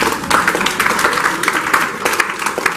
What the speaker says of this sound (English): So please an applause to Ben